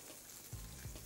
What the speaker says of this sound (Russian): А на сковородку отправляем сладкий лук, добавим немного оливкового масла,